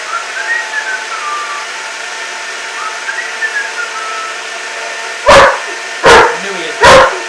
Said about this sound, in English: My dog might bark because he doesn't like loud noises.